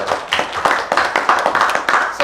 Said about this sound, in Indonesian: Oke, tepuk tangan dong buat kalian.